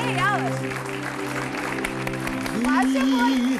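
Audience applause in a TV studio, a steady wash of clapping underneath a voice that talks over it and then sings a few notes near the end.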